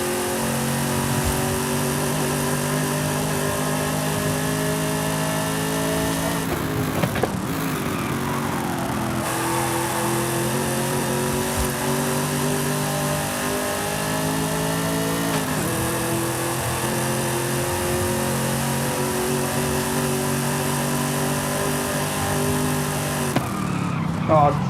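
A VW Golf R32 Mk.4 in Forza Horizon 5 drones steadily as its engine revs on the move, with pitch shifting through gear changes and a person talking over the engine noise.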